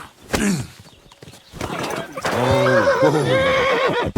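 A horse in the medieval video game Kingdom Come: Deliverance II whinnies in a loud, drawn-out neigh after a few sharp hoof clops, with a shorter snort-like call earlier, close and prominent in the game mix.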